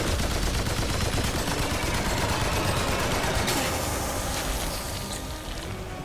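Rapid gunfire aimed at the Bloat King, a giant laser-shooting slime boss in the video game Remnant 2, rattles on loudly and continuously, thinning slightly toward the end.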